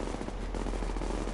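Rapid automatic gunfire in the shooter game Tom Clancy's The Division, a continuous rattling burst over a heavy low rumble, loud and close, with no voices.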